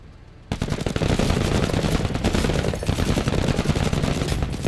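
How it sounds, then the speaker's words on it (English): Small arms fire in a video game campaign bursts out suddenly and rattles on as loud, rapid automatic shots with no pause. "Just small arms fire."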